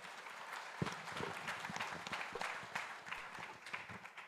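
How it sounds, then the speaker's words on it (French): Faint, distant applause from an audience at a women's entrepreneurial leadership event in Haiti, a scattered patter of hands with a few sharper individual claps. "que je vous demande d'applaudir, s'il vous plaît."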